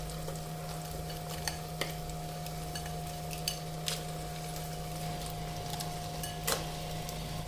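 Crabs are stirred into masala frying in a pan, giving a soft, steady sizzle under a low electrical hum, with a few faint spatula clicks scattered throughout.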